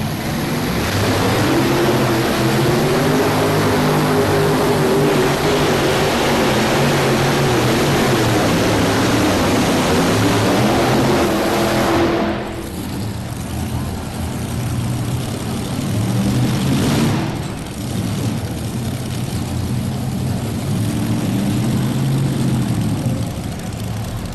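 Hemi-head drag racing engines at a 1999 NFMS event, heard as a loud, steady mechanical roar that cuts off abruptly about halfway through, then returns after a brief lull.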